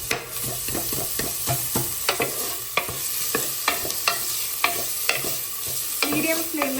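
Capsicum is stir-fried in a pan over a medium flame, a busy run of scraping spatula strokes and clinks over a constant close sizzle, with no talking.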